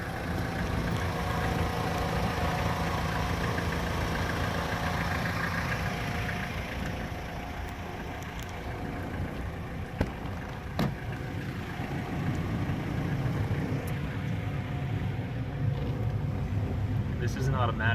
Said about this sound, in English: Pretty stout little quiet engine.